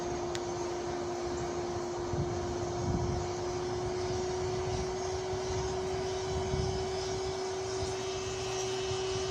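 Furnace blower drives a steady, loud airflow roar with a constant tonal hum while aluminum melts, unbroken and close throughout.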